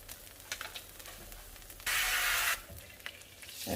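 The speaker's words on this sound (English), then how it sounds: "I actually have a little bit of spray oil." Spray oil hitting a hot pan gives a short, sharp burst of hissing spray in the middle, set against a quiet background of faint sizzling and small clatters.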